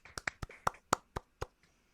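Hands clap eight times in a loose, uneven burst of applause, sharp and close, with the last few spread out before silence.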